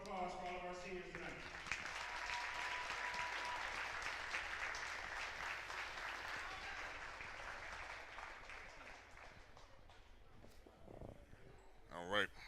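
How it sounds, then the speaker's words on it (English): Sustained crowd applause for seniors at a high school wrestling senior recognition night, a steady wash of clapping lasting throughout, with a speaking voice briefly at the start and a few louder claps near the end. "Let's give it one more round of applause for all of our seniors tonight."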